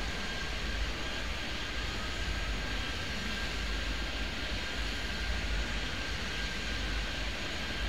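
Airplanes in the Airport Madness 3D game produce a steady, broad engine roar with a faint high whine, continuous and unchanging throughout.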